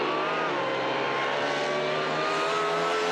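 A Double B altered drag racing car makes its run at the NZ Nationals, a loud, sustained engine roar with rising tonal whine as it accelerates hard down the strip, heard alone without talk.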